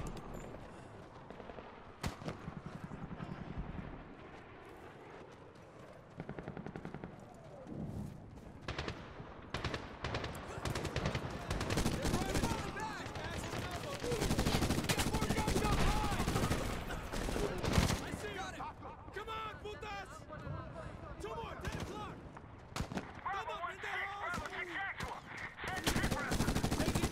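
Heavy machine-gun fire pours down from a hill in a Medal of Honor war battle, with long, dense bursts and scattered gunshots that build in intensity, and voices shouting under the din.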